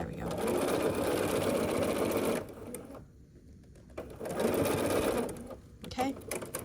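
A sewing machine stitches a churn dash quilt block seam in steady bursts, pausing briefly midway while fabric is realigned, then running again close and loud.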